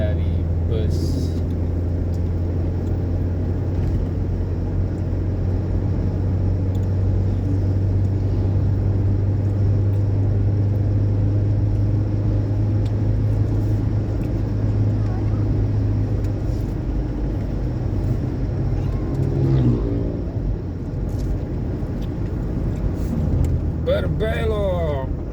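A bus travels along a road between Sigli and Samalanga, heard as a steady low engine rumble and road noise throughout, with a faint change in tone near the end.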